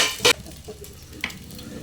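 Pepper- and salt-seasoned food for fried rice frying in a pan, a steady low sizzle with a couple of sharp stirring scrapes near the start and middle, close and moderately quiet with no talking.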